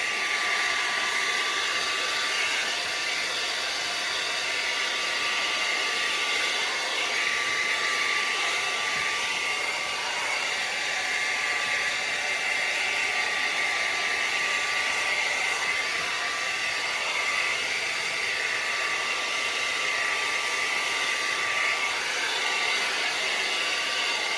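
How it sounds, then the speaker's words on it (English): A hair dryer blows steadily on a high setting, a continuous loud whooshing hum that never lets up. "you set it with the blow dryer. Turn it on high"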